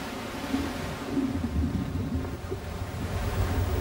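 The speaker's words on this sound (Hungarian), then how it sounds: "Dacára az erős hullámverésnek" Heavy surf pounds a rocky Galapagos shore, a steady broad roar of crashing and rushing water with wind buffeting the microphone, continuous and close.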